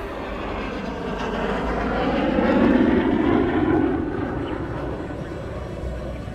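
NASA's X-59 quiet supersonic aircraft passes overhead, a broad, rushing roar that swells to a peak mid-pass and then fades away.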